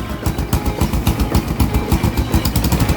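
A first-generation Honda Supra X 125 motorcycle engine idles close by with a leaking exhaust, giving a rapid, uneven popping and chugging rhythm, loud and continuous throughout.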